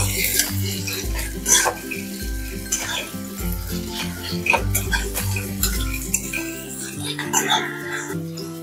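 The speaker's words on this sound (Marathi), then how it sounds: "आता आपण याच्यामध्ये टोमॅटो घालून घेऊयात। छान असं परतून घेऊयात आपण।" Tomatoes are sautéed in a pan with golden onions for a ridge gourd curry, a soft sizzle under repeated scraping and clinking of a spoon against the pan, with steady background music throughout.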